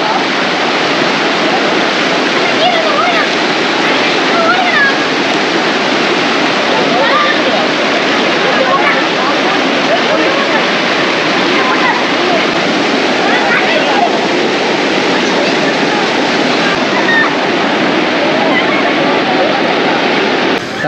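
Water rushes steadily down from the hills at Kanniyakumari, a loud, unbroken broadband roar of flowing water that continues throughout with no pauses.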